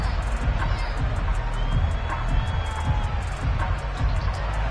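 A loud stadium crowd roars steadily at a Bills vs Titans football game, a dense wall of cheering and noise heard from within the stands.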